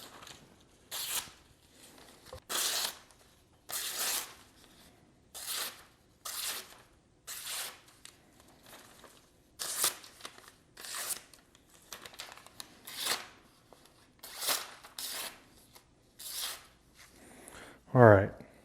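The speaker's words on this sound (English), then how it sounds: "You can tell when paper's ripping and when it's just getting lasered through, right?" A sharp Dalstrong 8.5-inch kiritsuke knife slices through paper in a run of about a dozen quick, crisp swishes at a steady rhythm, close and clear, ending with a louder rustle of handled paper.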